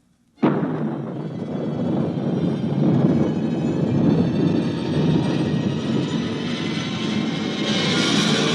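A rocket blast-off erupts suddenly from silence into a loud, sustained roaring rumble that holds steady and builds slightly toward the end, used as a sound effect in a science-fiction radio drama.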